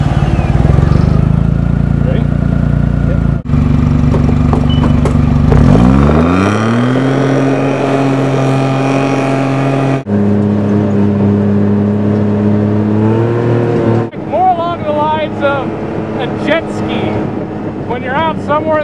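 A John Deere utility vehicle drives off-road, its engine droning steadily and revving up through gear changes as it climbs in pitch, loud and continuous close to the microphone.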